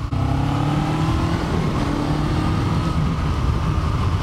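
A Kawasaki Eliminator 500 cruiser motorcycle engine roars and pulls hard with a dense, constant throaty drone, heard up close.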